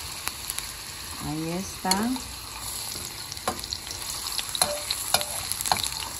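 Garlic and ginger fry in a pot for stewed red beans, a continuous close sizzle with scattered stirring clicks and scrapes, while a voice briefly speaks over it.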